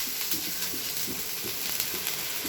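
Dosa batter sizzles steadily on a hot pan, a constant bright frying hiss with faint rhythmic crackles, close and continuous with no talking.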